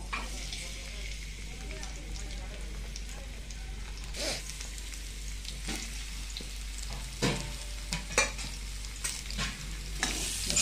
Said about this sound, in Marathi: कांदा भाजून घ्यायचा लालसर